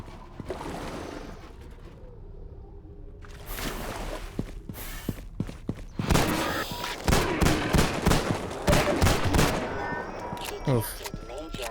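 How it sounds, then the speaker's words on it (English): Pistol shots in the video game Half-Life 2: a quick run of sharp, loud reports that grows denser partway through and fires in rapid succession over ambient game noise. "10 shots from the pistol"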